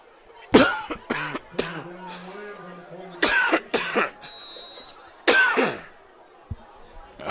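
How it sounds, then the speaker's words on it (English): A sudden coughing fit breaks out close by during a varsity football game broadcast, several harsh, loud coughs in irregular bursts with short gasps between them. "The out-of-nowhere coughing fit"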